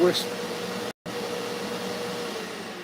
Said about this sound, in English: when I hit the power button, it's going to cycle the vacuum on